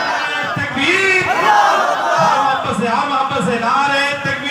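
A large crowd chants the Takbeer slogan in unison at a Shaheed-e-Karbala religious conference in Vaishali, the roar loud and dense with overlapping shouted voices rising and falling in waves.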